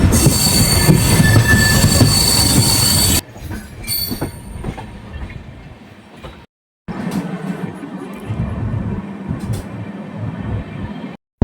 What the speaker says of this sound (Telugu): ట్రైన్ అయితే ఇప్పుడే కాచిగూడ స్టేషన్ నుంచి స్టార్ట్ అయింది